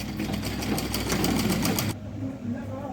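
Sewing machine stitching the fabric of a baby suit (jhabla), a steady rapid whirring run of needle strokes that stops abruptly after two seconds, leaving quieter room noise.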